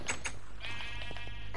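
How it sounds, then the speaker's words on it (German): Sheep bleat in the Minecraft video game: two short bleats up front, then a longer wavering bleat, clear and alone over a low steady hum. "Die sind Schafe"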